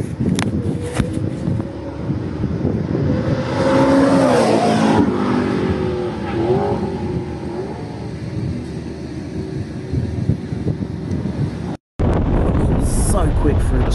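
A McLaren race car on a flying lap around a circuit, engine droning and revving through the gears with heavy wind buffeting, loud and close, while someone talks over it; a brief dropout near the end.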